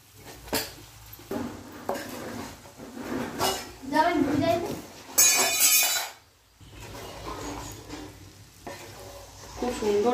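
Boiled pasta is stirred into a browned vegetable mixture in a frying pan, giving scraping and clinking utensil strokes over a low sizzle, with a burst of bright noise midway and a voice talking at times.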